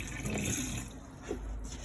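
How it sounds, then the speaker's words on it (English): Filtered water runs from a tap in a Roller Team 700 motorhome, a steady close splash and trickle that lasts the whole stretch. "You have also got this filtered water down here as well"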